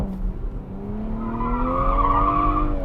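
A Toyota GR Supra slides tail-out at an autocross with traction and stability control switched off, its tires giving a rising, sustained squeal over a steady engine drone, loud and close, no talk.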